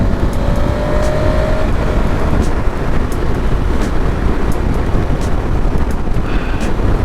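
A 2023 KTM 1290 Super Adventure motorcycle accelerates hard, its engine drone buried under loud, steady wind roar from a helmet or bike-mounted microphone, with no talking.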